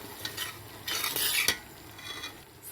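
A spoon scrapes and stirs through orange halwa frying in oil in a pan, a continuous close scraping and sizzle with a few louder strokes.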